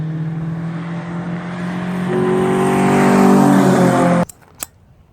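A car engine revs up near the microphone, its pitch climbing steadily as intake manifold flaps engage at higher RPM, then cuts off abruptly, leaving a couple of faint clunks.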